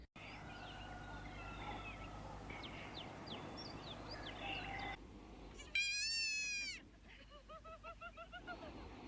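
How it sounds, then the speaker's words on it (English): A day-old baby goat bleats in a few loud, wavering cries close by in the middle, followed by shorter quieter bleats, after a stretch of steady background hum and faint chirps. "he's literally the chillest baby goat"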